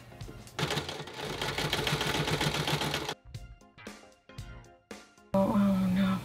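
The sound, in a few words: sewing machine stitching fabric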